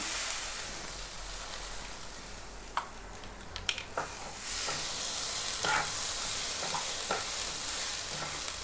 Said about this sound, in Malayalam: നമ്മൾ ഗോതമ്പ് നുറുങ്ങതിലിട്ടിട്ട് വറുത്തെടുക്കാം